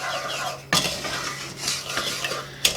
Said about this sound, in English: heat that up over medium high heat, and you're just going to stir that all in